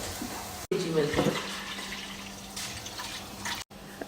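Milk poured into a pan for a Shahi Tukda dessert makes a steady liquid splashing and filling sound under a voice in a home kitchen.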